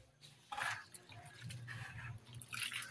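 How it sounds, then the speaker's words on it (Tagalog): Wet squishing and dripping as grated coconut mixed with water is squeezed by hand to release coconut milk, a few soft close squeezes with no speech. "Hangawin natin para labas yung gata niya."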